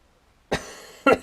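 Two sharp, close coughs from a man with a sore throat, separated by a short pause. The second cough is slightly longer and rougher, with nothing else around them.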